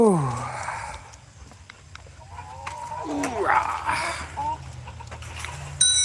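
Chickens on a farm cluck and call in short bursts at close range, with a person's voice talking among them and some rustling in the background.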